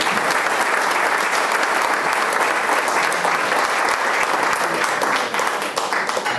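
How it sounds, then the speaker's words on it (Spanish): An audience at an awards ceremony applauds, with dense, steady clapping from a large crowd that holds at the same level throughout. "Un aplauso para un grosso."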